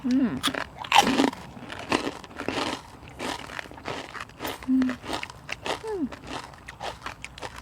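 Crispy pork crackling, eaten alongside Thai spicy papaya salad, crunches in repeated close bites and chews while people chatter around it.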